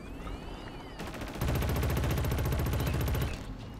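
A gun fires in the shooter game Killzone: Shadow Fall as a loud, rapid burst of repeated shots lasting nearly two seconds, after a short lead-in of game sounds, with no talking.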